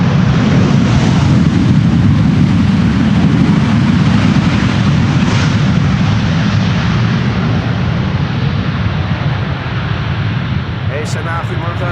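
Airliners on approach and landing at Amsterdam Schiphol Airport in a gusty crosswind, a loud, steady broadband jet roar dominating throughout with heavy low rumble, slowly easing toward the end.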